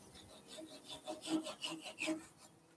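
A handful of rough, rasping saw strokes cutting off a piece of a turned wooden table skittles set, close by and quiet, each scrape rising and fading in an uneven rhythm.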